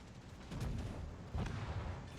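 Booming naval gunfire from a World of Warships battle, with two heavy swells of low rumbling fire a little under a second apart against constant game noise.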